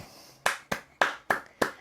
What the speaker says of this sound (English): applause right now.